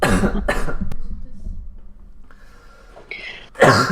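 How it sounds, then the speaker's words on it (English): A person coughs near a microphone during a podcast conversation: a couple of quick, loud coughs at the start and another burst at the end, separated by quiet room tone. "I start coughing when I speak up."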